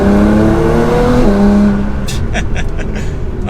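Engine of a Nissan GT-R R35 fitted with a Pedal Commander throttle controller, droning loudly from inside the car with a rising then steady tone, followed by quieter rumble and a few faint clicks.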